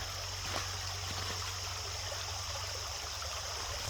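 Water runs steadily through a gold prospecting sluice, a continuous, soft rushing flow heard up close and alone.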